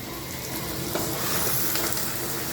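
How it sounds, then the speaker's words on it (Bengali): Meat frying with spices in a pan for a stomach kosa dish, giving a dense, loud, unbroken sizzle heard up close with faint stirring and no speech. "এটাকে আমি একটু ফ্রাই করে নেব।"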